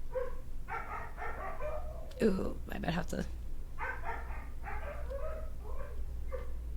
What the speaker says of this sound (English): Sorry, my dog's in the background.